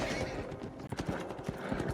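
Horses in a scene from the film Gladiator gallop with rapid, rumbling hoofbeats, and a neigh rises at the end, heard at film-soundtrack loudness with people talking over it.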